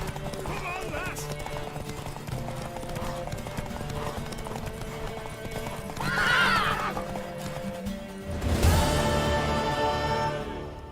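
Horse hooves clip-clop at a gallop in the Witcher 3 video game, with a loud whinny partway through and another burst near the end, set under game music and voices talking.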